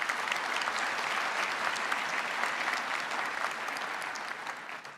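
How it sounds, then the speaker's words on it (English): Sustained applause from a convocation audience at George Brown College, dense steady clapping throughout, fairly even in level from start to finish. "Why don't you give an applause to them as well"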